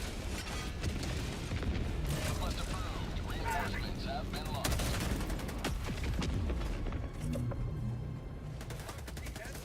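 Dense video game battle with continuous gunfire, machine-gun bursts and explosions, loud and sustained throughout, with voice callouts mixed in.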